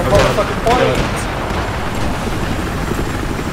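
Attack helicopter in Battlefield 4, its rotor and engine roar filling the mix alongside game gunfire and blasts, with a burst of impacts near the start.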